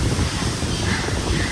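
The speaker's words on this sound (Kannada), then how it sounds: "ಎಷ್ಟು ಚೆನ್ನಾಗಿ ಗಾಳಿ ಬೀಸ್ತಾ ಇದೆ" Steady outdoor wind rushes and buffets a microphone near an apartment building, a broad continuous roar with no clear gusts or breaks throughout.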